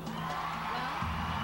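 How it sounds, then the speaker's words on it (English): A large crowd cheers and whoops for Miss Botswana at the Miss Universe 1999 pageant, a steady, dense roar of voices heard from a distance without a break. "The crowd loves this girl. Listen to the crowd"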